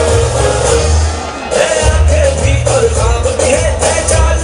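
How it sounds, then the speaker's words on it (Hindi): Large outdoor crowd applauding and cheering at an Islamabad Police Independence Day parade, loud continuous clapping with shouts and whoops over a low rumble. "भरपूर तालियां इस नई इंडक्शन के लिए।"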